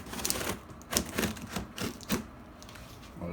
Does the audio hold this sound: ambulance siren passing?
no